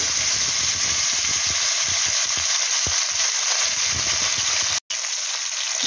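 Tomato frying with nigella seeds in mustard oil left from frying parshe fish makes a loud, constant sizzle with occasional stirring scrapes and a brief dropout near the end.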